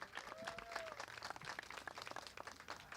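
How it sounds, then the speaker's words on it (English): An audience at a Detroit affordable housing event claps in quiet, scattered applause that sounds distant and faint throughout. "Let's give William another round of applause."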